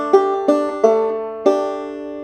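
A banjo chord in two-finger thumb-lead style is strummed with the second string left unfretted, four bright plucked attacks ringing close and alone over about two seconds.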